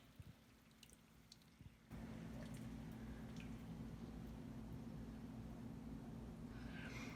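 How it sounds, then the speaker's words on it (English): A whole 16-ounce jar of green salsa pours into a hot pan, setting off a steady, close sizzle with soft wet squishing after a quiet start of faint kitchen clatter. "add the salsa, the green salsa of your choice. This is just a whole jar."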